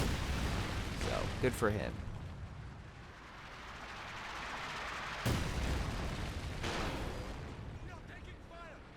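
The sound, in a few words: artillery fire in video game Company of Heroes 2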